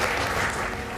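Audience applause fills a hall after a speech, a steady, dense wash of many hands clapping together with no pauses.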